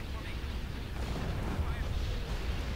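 Blaster and gunship cannons fire in a Star Wars space battle game, a dense rumbling barrage of booming shots layered over continuous low roar.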